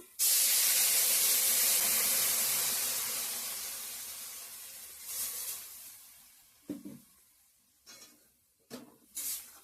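Water poured into a hot pan of fried potatoes for an egg curry bursts into a loud hiss that slowly fades over several seconds, followed by a few clinks and bubbling noises.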